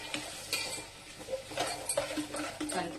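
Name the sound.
stirring sambar in a pot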